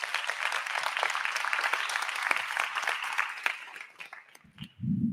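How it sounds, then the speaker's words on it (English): An audience at a youth environmental justice plenary claps in dense, steady applause for several seconds, fading toward the end as a voice starts speaking. "So can we just get a round of applause for them as well"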